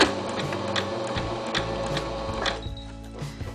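A pedal-driven sewing machine with a button-sewing foot stitches a button in place, a close rapid mechanical chatter with clicks and thumps over a few seconds.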